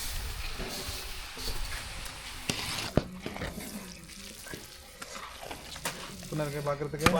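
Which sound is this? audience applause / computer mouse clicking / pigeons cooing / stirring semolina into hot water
stirring semolina into hot water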